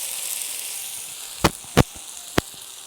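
Curry leaves drop into onions frying in a pan, producing a steady hissing sizzle broken by a few sharp crackling pops.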